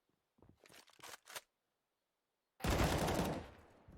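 Gunfire in the game Counter-Strike, a quick cluster of sharp shots in the first second and a half, a brief silence, then a louder, longer burst of rapid fire that tapers off.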